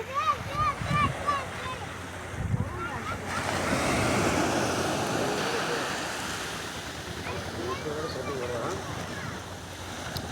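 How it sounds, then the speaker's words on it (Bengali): Sea waves wash onto a beach with boats nearby in the evening, a continuous surging roar with swells rising and falling, wind buffeting the microphone and people chatting in the background. "আর এই যে কি ঢেউ আসছে"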